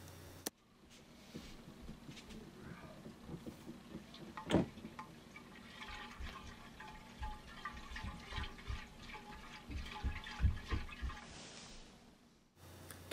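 Yeast suspension is decanted into another container, with a gentle, faint liquid trickle and splash, scattered small clinks and ticks, quiet and steady without speech.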